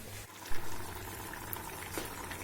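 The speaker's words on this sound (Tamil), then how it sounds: "இப்போ நெத்திலி பாருங்க நல்லா கொதிச்சுட்டு இந்த அளவுக்கு இருந்தால் போதும்." Low bubbling of a simmering anchovy curry pot, a steady soft burble with a brief louder pop, fairly close.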